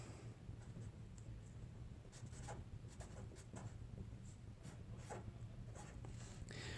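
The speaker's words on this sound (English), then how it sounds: "Let's go ahead and write that down." Pen writing on a formula sheet, soft scratchy strokes in short irregular bursts, close but faint over a low background hum.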